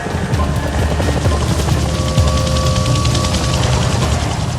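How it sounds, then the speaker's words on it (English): A Chinook twin-rotor helicopter passes overhead near a fog-shrouded lighthouse, its steady loud thudding rotor beat and engine drone filling the whole stretch without letup. "he saw the Chinook fly over"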